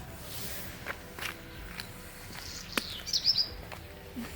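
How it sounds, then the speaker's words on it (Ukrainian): Birds chirp in a garden outdoors, several short, faint tweets with a brief clearer burst of song, over footsteps on the ground. "Пташки співають. Так гарно."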